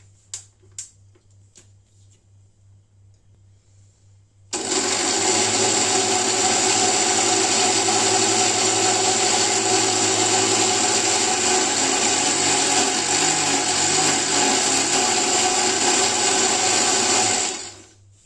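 A mixer grinder churning cream into butter for ghee starts up after a few faint knocks and runs loud and steady for about thirteen seconds with a high whine, then stops abruptly.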